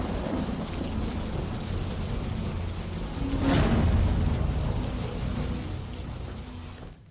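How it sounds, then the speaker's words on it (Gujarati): Unseasonal heavy rain pours in a dense, constant hiss while strong wind gusts through, and midway a loud crack of thunder swells into a rolling rumble before the downpour carries on and fades at the end. "ભારે ગાજવીજ અને તેજ પવન સાથે માવઠું થયું"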